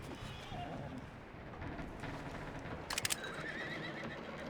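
A horse in the video game Red Dead Redemption gives a loud, close whinny over a steady background of game ambience, with a short clatter partway through.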